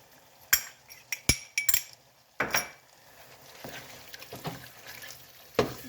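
Stewed or diced tomatoes stirred into a pot of chili, with a handful of sharp metallic clinks and scrapes of a utensil against the pot spaced irregularly, close and fairly loud, with quieter shuffling between.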